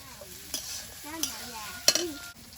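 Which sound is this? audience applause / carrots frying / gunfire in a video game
carrots frying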